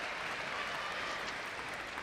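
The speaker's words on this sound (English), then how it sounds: "the German supporters are on their feet clapping" German supporters applaud a table tennis win at a Paralympic men's singles match, giving a dense, sustained burst of clapping from a crowd indoors, steady and loud throughout.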